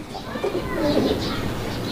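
A brief, low pigeon coo, close and fairly quiet, over a murmur of background noise.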